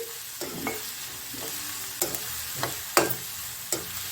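Onions sautéing in oil in a kadai, with a faint steady sizzle beneath several sharp spatula scrapes and stirs against the pan at irregular intervals.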